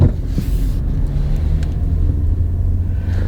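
A V6-engined vehicle rolls through a tight turnaround, its engine a smooth, steady low rumble heard from inside the cabin, with some wind noise.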